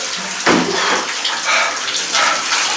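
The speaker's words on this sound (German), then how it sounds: "mir eiskaltes Wasser über den Kopf zu gießen" Ice-cold water poured over a person's head during an Ice Bucket Challenge, a sudden splash followed by a rushing, gurgling pour lasting a couple of seconds.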